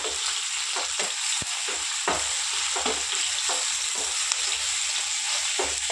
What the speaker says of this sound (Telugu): బాగా ఫ్రై అవుతుంది కదా